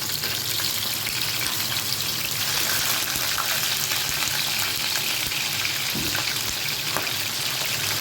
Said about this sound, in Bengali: এগুলো এখন ভাজি করে নেব তেল বসিয়ে দিয়েছি